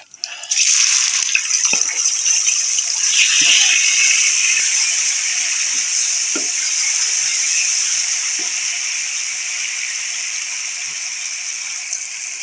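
Chopped tomatoes hit a hot pan of browned onions while cooking masoor lentils, and a loud, steady sizzle bursts up and holds with little change, with a few faint clinks underneath.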